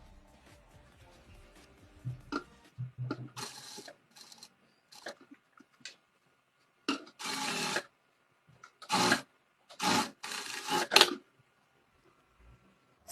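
A sewing machine stitches the side slit of a kurti in short separate bursts of rapid needle clatter broken by quiet pauses, close and fairly soft.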